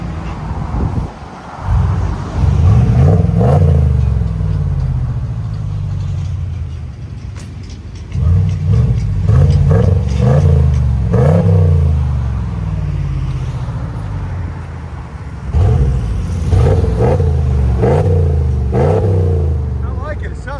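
A deep 5.7L HEMI V8 RAM truck exhaust with large resonators revs repeatedly in bursts, rising and falling with a low rumble, close by, with pauses of idling between revs.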